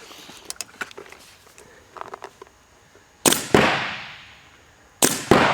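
Paintball markers fire over a chronograph in a shooting test, giving sharp pops and clicks, first as faint scattered shots, then two loud close bursts that ring out and decay, with no talk.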